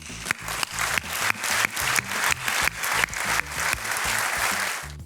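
Audience applause for contest finalists at a televised youth comedy show final, a full steady round of clapping broken by sharp louder bursts, then fading slightly toward the end.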